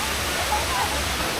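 A waterfall at a swimming spot roars as a steady, even broadband rush of falling water, continuous and fairly close, with no distinct splashes standing out.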